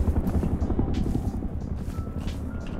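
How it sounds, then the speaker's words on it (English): AI-controlled attack helicopter in the video game Rust, its steady rotor thump and engine drone rumbling loud and continuous overhead with no break. "I hope that's not an AI heli. Yep, that is. That's heli."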